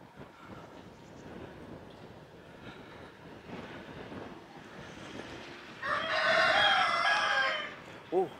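A rooster on a rural French farm lets out a loud, drawn-out crow from fairly close by, standing clearly above low outdoor ambience, with a brief short sound just after.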